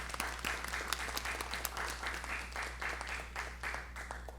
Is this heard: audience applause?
yes